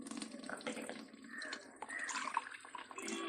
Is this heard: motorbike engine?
no